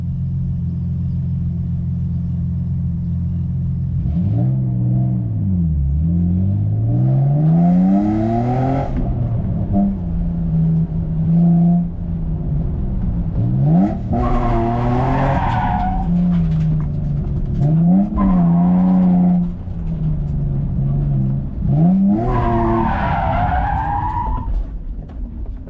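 A car takes a slow lap around the drift mansion course, its engine rumbling, revving and falling in repeated swells, with tyre noise and a few squeals over roughly twenty-five seconds, close and steady without speech.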